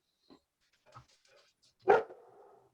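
A dog gives one clear bark after a few faint, scattered noises, then a short tail of sound in an otherwise quiet room.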